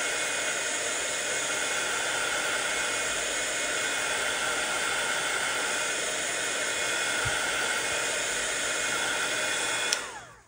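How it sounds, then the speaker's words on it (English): A heat gun blows continuously while drying glue on a stamped vellum sun catcher craft, a loud, even rushing whoosh that holds steady for about ten seconds before switching off abruptly. "Sorry for this heat gun noise."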